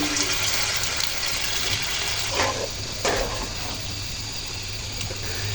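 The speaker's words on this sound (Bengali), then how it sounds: "গরম পানি দিয়ে দিচ্ছি" Hot water is poured into a karahi of cooking vegetables for boal fish bhuna, a close, steady gushing pour for about two and a half seconds that then eases into a quieter simmering wash, with no voices.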